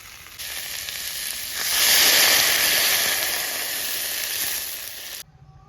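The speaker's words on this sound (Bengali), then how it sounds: "এখন পরিমাণ মতো জল দিয়ে দিব।" Water poured onto potatoes frying with spices sets off a surging hiss that swells loudly, holds as a steady steamy sizzle, then drops off abruptly at the end.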